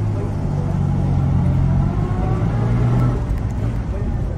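Car engine pulling away in first gear on a quiet Sunday drive, a steady close low rumble and hum that rises slightly as it moves off, continuous throughout.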